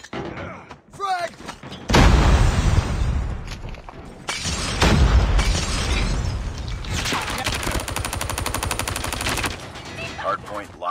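Frag grenade blast during a Call of Duty Mobile Hardpoint match on the Heavy Metal map, a loud burst amid heavy automatic gunfire and rapid shots, with brief voice callouts.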